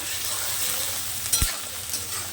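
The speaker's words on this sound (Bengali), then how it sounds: "রসুন, কাঁচা লঙ্কাটাকে ভেজে নেব।" Onion, garlic and green chillies fry with spices in hot oil in a pan for a Bengali fish curry, a steady close sizzle with a single sharp clatter of stirring partway through.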